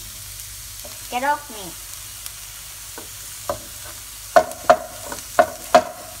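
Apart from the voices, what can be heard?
sautéing food in a pan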